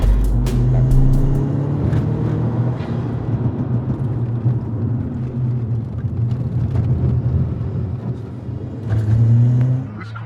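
A Cupra R's engine roars and revs steadily from inside the moving car, its deep drone swelling and falling with gear changes throughout, loud and close with little talk.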